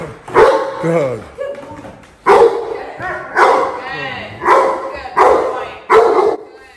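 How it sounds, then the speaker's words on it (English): A residential guard dog gives a run of strong, determined barks, about seven loud close woofs in an uneven rhythm with short whimpering yips between them. "We want to encourage a strong bark, a determined bark"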